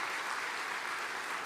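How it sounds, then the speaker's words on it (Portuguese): A church congregation claps in sustained, dense applause that fills the room at moderate volume, with no voices standing out. "Glorifique o nome de Jesus com a salva de palmas"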